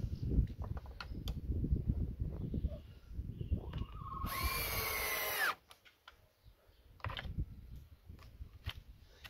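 A power drill drives a screw into wood in a carpentry workshop, one loud sustained whir of about a second that stops abruptly, with quieter handling noises and brief talk around it.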